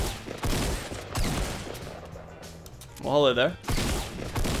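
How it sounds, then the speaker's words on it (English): Gunfire in Fortnite: Battle Royale, aimed at the player, comes in short bursts of game shots and crashes, with speech breaking in partway through. "Someone's shooting me."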